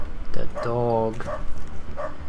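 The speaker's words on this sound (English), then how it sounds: "Wish that dog would shut up though, seriously." A dog in the video game UnderRail gives a short harmonic bark, followed by yips, heard under a player's close commentary.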